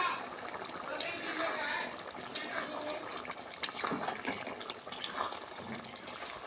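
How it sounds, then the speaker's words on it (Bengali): Water poured into a pot of curry being braised makes a steady, close trickling splash at moderate level, with a few small clinks of utensils against the pot. "পানি দিলাম শুকিয়ে গেলে তারপরে ঝোল দিব"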